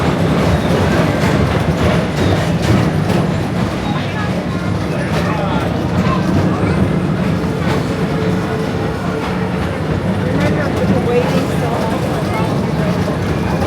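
Disney World Magic Kingdom PeopleMover ride cars glide along the track with a steady rumble and clatter, while a red train passes nearby and riders talk over the continuous ride noise.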